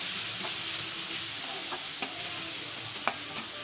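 Potato and bitter gourd fry together in a pan with a steady, moderate sizzle of oil, punctuated by a few scraping stirs, close and with no talking.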